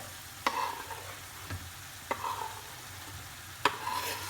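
Chicken tantuni base of onions frying in a pan as tomatoes go in, a steady close sizzle broken by about four sharp stirring scrapes and clatters spaced through the clip, with no talking.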